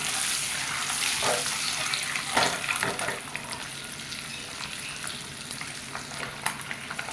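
Boiled eggs frying on high flame with chilli, salt and turmeric, a steady close sizzle and crackle with a few brief stirring scrapes and louder spits around the middle.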